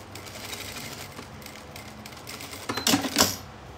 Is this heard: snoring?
no